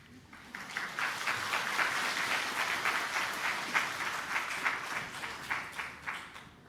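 A church congregation claps after the announcements at a dedication service, steady moderate applause with a slightly uneven rhythm, tapering in bursts toward the close.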